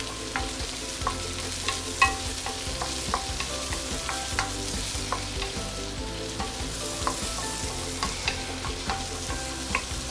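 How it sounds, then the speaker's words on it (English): Carrots stir fried in an oiled wok for Singapore-style fried beehoon, a steady close sizzle with frequent scraping and clinking of the spatula against the pan. "This is why we need to always stir fry our carrot."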